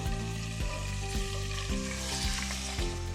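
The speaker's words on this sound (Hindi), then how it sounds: "आधे घंटे के बाद चिकन को फ्राई कर लेंगे।" Chicken frying in oil in a pan, a loud, dense, continuous sizzle with regular stirring knocks roughly every half second, close and alone.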